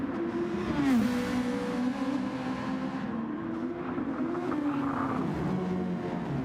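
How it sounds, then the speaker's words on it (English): Racing car engines in a video game race at Daytona whine and rev at high pitch, one swooping past with a falling tone, then another climbing and dropping, steady and fairly loud. "those are beautiful engine noises"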